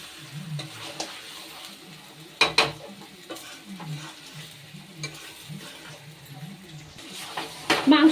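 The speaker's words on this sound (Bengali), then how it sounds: "আলুটা দিয়ে মিনিট 2-3 কষিয়ে নিচ্ছি।" Mutton and potatoes are stir-fried in a pan, with a soft sizzle under scraping and clinking of a spoon against the pan, some brief louder clatters, and a voice speaking at times.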